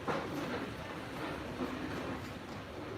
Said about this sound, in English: Is that the metro? Yes, it is the metro.